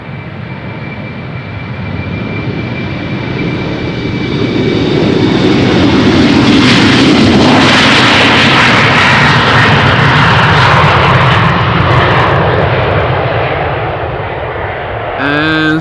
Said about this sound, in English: We're standing alongside runway 36 left, where departures are taking place.